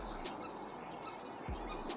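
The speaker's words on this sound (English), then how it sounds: "Do you hear this bird right now, Sharif?" A bird chirps outdoors in spring in a series of sharp, high tweets, some short and others drawn out, over a faint background hiss, fairly close and without talk.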